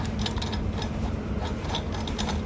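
Wrench ratcheting off the outside axle nut of a PHILIAM FX1 electric mountain bike wheel, a steady run of close, quiet metallic clicks with no talking.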